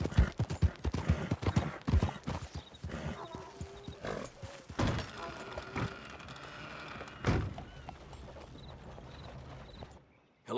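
Horse hooves clip-clop in the video game Red Dead Redemption 2, a run of close, uneven knocking steps that slows and thins out, with a few heavier thuds.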